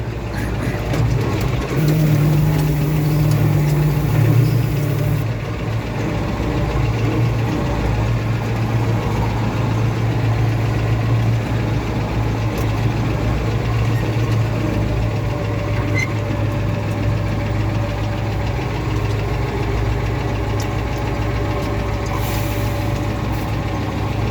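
A tractor engine idles with a low, steady rumble throughout, close by, with faint background noises.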